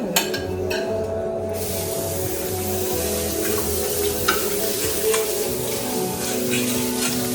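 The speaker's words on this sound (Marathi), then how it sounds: "Omelette in process." An omelette fries on a flat griddle pan in a villa kitchen, a loud steady sizzle close up with occasional scrapes and clinks of utensils.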